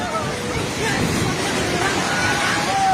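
A flooded river rushes in a loud, continuous roar during a disaster in Nepal, heard close under excited voices talking and shouting throughout.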